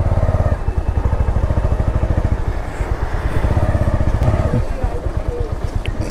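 A Bajaj service centre forecourt in Koramangala with a motorcycle engine running close by, a steady pulsing idle throughout with a brief rev-like shift near the end, under some background talk.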